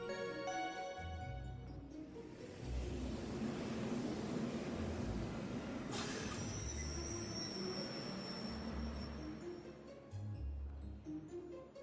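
A train in the video game Trails of Cold Steel rumbles along with steady, loud wheel and carriage noise and a low droning hum, under a soft musical score and with no speech.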